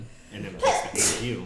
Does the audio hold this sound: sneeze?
yes